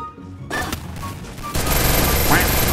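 Gunfire in the Free Fire mobile shooter, starting as scattered shots and building into a dense, loud burst of rapid fire with an occasional short sweeping tone over it.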